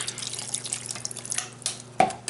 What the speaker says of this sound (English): dump about half a cup of soy sauce in that and a half a cup of water